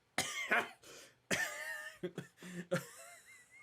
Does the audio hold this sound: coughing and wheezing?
yes